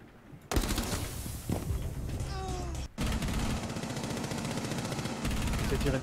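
Automatic gunfire and single shots in Rainbow Six Siege, loud, near bursts that fill the short clip with two brief gaps, with a faint background voice.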